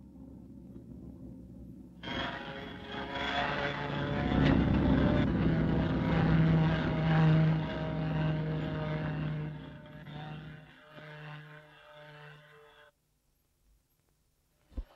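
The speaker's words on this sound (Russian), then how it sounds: "сейчас в Москву как раз пойдет санитарный У-2" Propeller engine of a U-2 ambulance biplane, a steady droning roar that swells loudly and holds for most of the stretch, then cuts off, leaving near silence.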